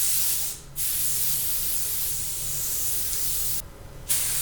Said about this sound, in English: learning how to use the sprayer and try to find the right finish with the right sheen